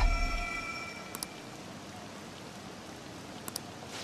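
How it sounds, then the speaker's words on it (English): Steady rain in the video game Persona 5 patters continuously as a soft, even hiss, with a couple of faint clicks and a fading tone at the start. "This rain ain't too bad."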